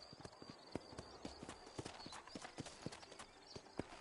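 Horse hooves clip-clop at a steady walking rhythm in the Western game Red Dead Redemption, the clear, even beats sitting over a soft background ambience.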